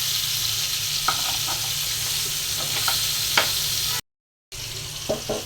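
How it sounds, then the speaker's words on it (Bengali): Fish fries lightly in a pan, a steady close sizzle with occasional soft clinks of stirring, broken by a brief moment of silence. "মাছটা আমি বেশি কড়া করে ভাজবো না"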